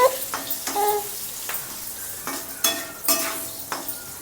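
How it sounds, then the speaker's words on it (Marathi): A spoon scrapes through bitter gourd in a hot pan of tempering, with irregular stirring strokes over a soft, steady sizzle. "आता कारला आपण हे चांगलं हलवून घेऊया फोडणीमध्ये"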